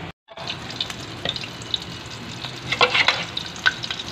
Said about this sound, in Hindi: ये ड्रम स्टिक फ्राई हो रही है।